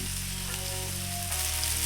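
Marinated chicken sizzles steadily on a hot Blackstone flat-top griddle, a constant crackling hiss with a low hum underneath, close and unbroken.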